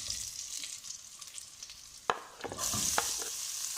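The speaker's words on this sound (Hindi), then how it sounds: "तो प्याज को हम थोड़ा सा फ्राई करेंगे" Onions fry in a pan with a steady soft sizzle. Occasional scrapes and stirring knocks sound close by, and the frying grows louder toward the end, with no one talking.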